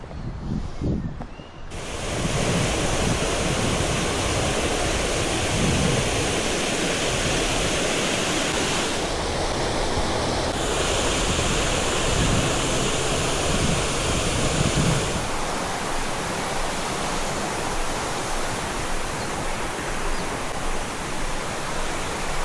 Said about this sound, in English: A charming artificial waterfall and the Guilherme stream complements several ponds where you may spot white swans.